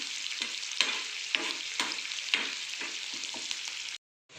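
Onion sautéing over a low flame in a pan gives a steady, close frying hiss broken by repeated spatula stir strokes, then cuts off abruptly near the end; no voices.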